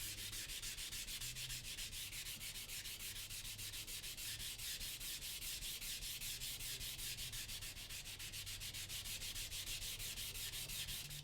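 A rust eraser rubs back and forth on a 1000 grit whetstone during a Shun kitchen knife restoration, a fast, steady scrubbing rasp that continues without pause, close and fairly quiet with no voices.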